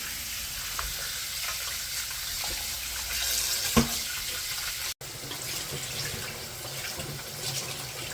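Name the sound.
washing beef trotter pieces under running tap water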